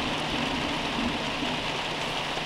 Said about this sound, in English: When we left work, it started to sprinkle